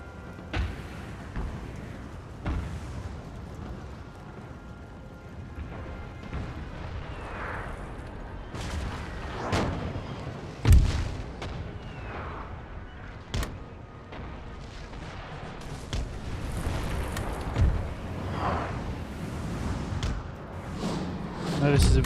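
In the Napoleonic battle game Napoleon: Total War, cannon shots boom at irregular intervals across a distant battlefield, sharp thuds and rumbling bursts rising over a steady background while someone narrates throughout.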